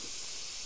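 Spray paint, white, hisses from an aerosol can in one steady burst that fills the whole short moment, close and even, with no talking over it.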